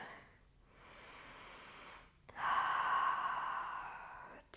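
Deep breathing during a Pilates mat stretch: a soft exhale, a pause, then a longer, louder airy breath that fades out, close and alone.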